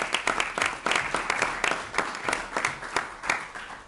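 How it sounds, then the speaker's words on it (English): Applause at a city council meeting in Lake Forest, a burst of clapping from a modest indoor audience that comes in uneven waves, fairly close and steady for a few seconds before fading. "another round of applause for Diane"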